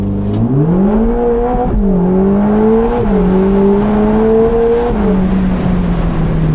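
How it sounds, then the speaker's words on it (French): A 620 hp Ferrari Roma Spider launching from 0 to 100 km/h, its loud engine note climbing steadily and dipping briefly at each quick gear change, with no talking over it. "je me permets de vous montrer un petit 0 à 100"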